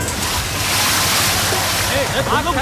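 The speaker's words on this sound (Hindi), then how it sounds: "जाके पंप से पानी छोड़ो" Water gushes loudly from a motor-driven pump into a farm field canal, a continuous broadband rush with people shouting over it.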